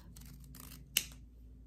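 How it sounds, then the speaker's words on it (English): Scissors cut through ribbon for a hair bow, a single quick snip heard close and faint against quiet background rustling. "So then you're just gonna get your scissors and cut up"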